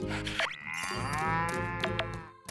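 Cattle mooing inside a barn in Story of Seasons: Pioneers of Olive Town, one long drawn-out low moo with a harmonic rise in the middle, near and clear over a soft steady game backdrop.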